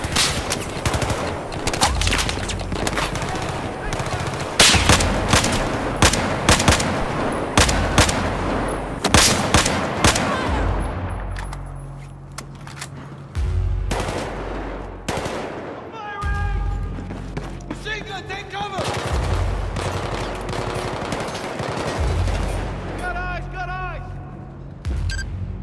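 Rapid bursts of gunfire and heavy thumps ring out in the Battlefield 4 campaign's Singapore airfield mission on Xbox One, loud and sustained, with a voice talking over the shooting.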